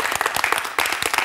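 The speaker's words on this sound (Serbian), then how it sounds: "veliki aplauz za Nataliju" A studio audience of women at a K1 television talk show applauds. The clapping is close, crisp and busy, with a brief dip before it picks up again.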